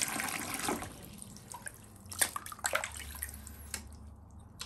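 Water runs over the brush of a 1993 Numatic Henry HVR 200 vacuum cleaner being rinsed in a sink, a soft steady flow with scattered splashes and drips, fairly quiet and with no talking.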